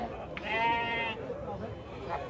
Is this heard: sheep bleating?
yes